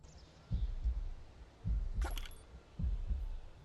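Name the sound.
heartbeat sound effect in video game Planet Coaster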